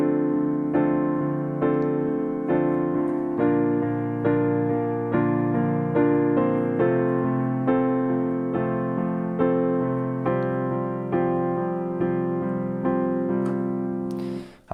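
Piano plays the intro of a song as a simple chord accompaniment: steady, evenly spaced sustained chords that ring into each other, close and alone, with the last chord cut off abruptly.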